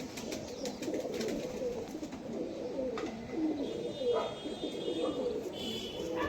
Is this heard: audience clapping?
no